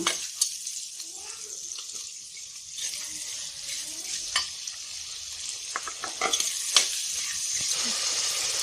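Chopped tomatoes sauté with onions in a pan, giving a soft, continuous sizzle with a spoon scraping and clicking against the metal now and then; a few fainter knocks and rattles stand out toward the end.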